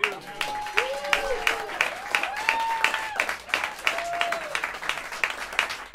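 Audience applause fills a small jazz club after a live set by a bass-led trio, steady dense clapping mixed with crowd murmur while someone speaks over it with harmonic voice.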